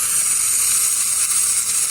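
Bacon grease sizzles and spits in a pan, a steady, dense hiss that holds at an even level for a couple of seconds with no talk over it.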